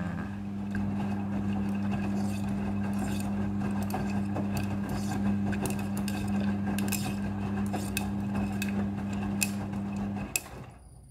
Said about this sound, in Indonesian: Jadi jumlah air yang dibutuhkan untuk proses pembilasan ini diatur secara otomatis oleh mesin cucinya.